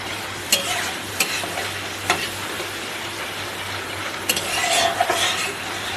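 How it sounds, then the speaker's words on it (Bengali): Poppy seed, melon seed and cashew paste being stirred into a sizzling dish for Basanti pulao and Kashmiri aloo dum, a spoon scraping the pan with sharp periodic knocks over constant frying hiss. "ভালো করে এর সাথে এখন মিশিয়ে নেব।"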